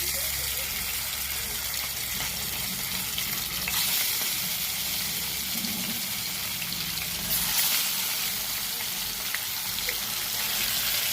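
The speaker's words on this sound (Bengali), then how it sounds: "মাছটা ভাজা হচ্ছে।" Rui fish fries in hot oil in a kadai with a steady, continuous sizzle that stays close and fairly loud throughout, with brief bursts of stronger crackle.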